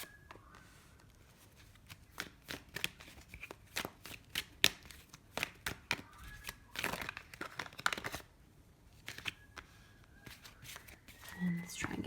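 Tarot cards being shuffled and dealt at close range, giving a run of soft, irregular riffling and slapping bursts with short pauses in between, with no speech over them.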